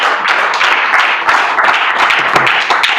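Church congregation applauding, a dense, steady burst of many hands clapping close and loud throughout, with no voices on top.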